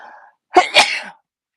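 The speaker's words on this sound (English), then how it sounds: "I'm going to sneeze." A single sharp sneeze up close, a quick two-part burst that stops abruptly, followed by silence.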